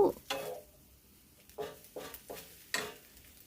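Pad see ew, flat rice noodles with soy sauce and vegetables, being stir-fried in a pan: a faint sizzle beneath several distinct scraping strokes of a spatula spaced irregularly, fairly close.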